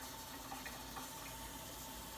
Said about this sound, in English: So I'm going to go ahead and add my water.